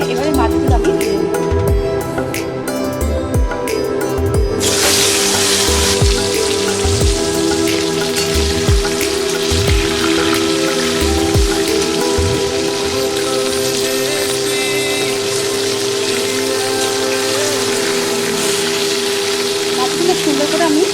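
Pieces of bhola fish sizzle loudly in hot mustard oil in a kadai, a dense crackling hiss that swells suddenly as the fish goes in and then settles into steady frying with soft spatters and occasional clinks.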